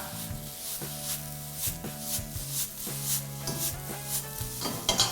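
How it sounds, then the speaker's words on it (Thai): Hong Kong noodles stir-fried with bean sprouts and a little sesame oil in a hot wok over high heat: a continuous close sizzle with rhythmic scraping strokes of the spatula and occasional metallic clacks. "ผัดให้เข้ากันและเติมส่วนผสมแรกที่เราผัดแล้วลงไป"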